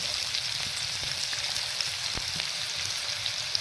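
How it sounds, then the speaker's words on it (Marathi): Finely chopped onion and a little coriander sizzle steadily in hot oil with cumin tempering, a continuous close frying hiss with faint crackles and occasional soft stirring knocks. "नंतर आपण चिरलेला बारीक कांदा आणि कोथिंबीर थोडीशी त्याच्याबरोबरच फ्रायला घालावी."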